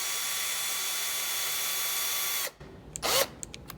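A power drill or driver runs steadily for about two and a half seconds while tightening screws into a door lock reinforcement plate, then cuts off, followed by a brief ratcheting tool sound and a few small clicks.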